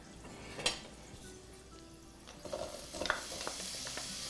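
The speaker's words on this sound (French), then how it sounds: "Mettre l'oignon." Onion drops into a pan and sizzles softly as it is stirred, a faint hiss with scattered light scrapes and clinks of a utensil, growing a bit denser toward the end, quiet overall.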